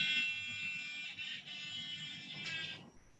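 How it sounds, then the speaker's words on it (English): A small electric buzzer in a physiology lab sounds once its two circuit wires touch, a steady high-pitched tone that holds for nearly three seconds, slightly wavering, then cuts off abruptly. "you should be able to hear the buzzer."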